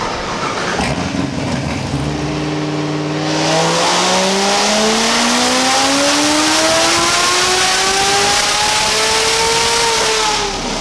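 A supercharged 2019 Corvette C7 ZR1 engine makes a loud dyno pull, the note climbing steadily in pitch as revs build through the gears to a sustained high roar, close and alone.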